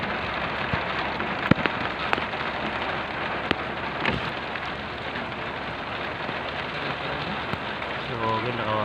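Heavy rain falls steadily on a surface at an outdoor basketball court, a dense continuous hiss with a few sharp drips, and a voice speaks faintly near the end.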